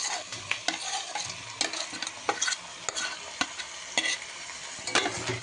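Fried onion and potatoes stirred in a pan, with a steady sizzle of frying under repeated scraping, clinking strokes of a utensil against the pan, close and fairly loud with no talk.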